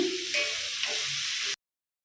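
Beans, cabbage, carrot and onion fry in a hot kadai, giving a steady, bright sizzle close by that cuts off abruptly after about a second and a half.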